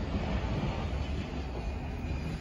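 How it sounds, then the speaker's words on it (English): Loud, continuous rumbling roar of a train rolling past close by at a train museum, broadband and steady throughout with no talking. "there's another train coming"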